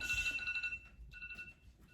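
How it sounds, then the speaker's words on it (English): A phone ringing indoors during a family home stretching workout, a repeating electronic ringtone, moderately faint and steady, with low room noise beneath. "Someone's phone is ringing."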